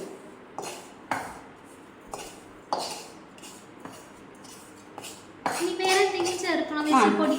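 Roasted coconut tipped into a mixer grinder jar, with several sharp clinks and taps of a spoon against the jar, then a denser clatter and rustle of coconut pieces near the end, with a voice speaking at points.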